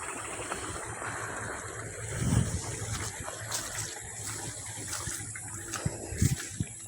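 Water runs steadily through a channel beside rice paddies outdoors, a constant rushing wash with light wind, heard close with a couple of soft splashing bumps.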